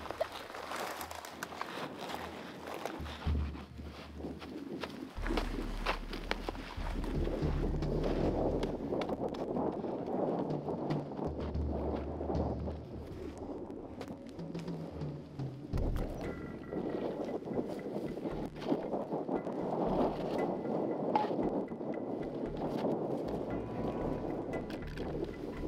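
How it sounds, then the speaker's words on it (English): Strong wind gusting outdoors on a hunting trip in Africa ahead of an incoming storm, a steady loud roar and buffeting against the microphone with surges and lulls throughout, no voices. "This wind, I think that's our main factor, with the storm blowing in."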